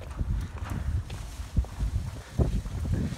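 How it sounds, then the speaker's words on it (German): Wind gusts through the empty streets of an abandoned village, a steady low buffeting rumble with irregular louder surges, close and continuous, with no voices. "spürt den Wind, der einem um die Ohren peitscht"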